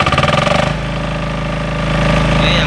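Emerald 15 kVA, 12,000 watt single-phase generator engine: a loud pulsing chug at startup that settles into a steady close idle hum and swells slightly toward the end, with no talk.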